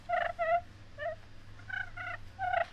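A friction turkey call played uncupped gives a run of short, raspy yelps in small bursts, close and fairly quiet, with a faint hum underneath.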